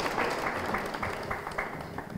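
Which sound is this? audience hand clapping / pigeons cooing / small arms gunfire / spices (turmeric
audience hand clapping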